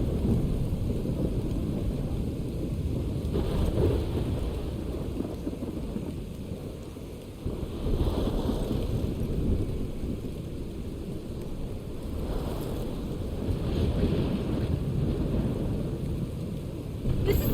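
Thunderstorm in the game Life Is Strange: steady heavy rain and wind roar throughout, with low rumbles of thunder swelling now and then, loud and continuous, no voices.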